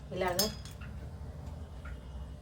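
A spoon clinks and scrapes briefly against a bowl while mixing garam masala, coriander powder, salt, chili powder and turmeric, a few quick close metallic taps near the start, then quiet.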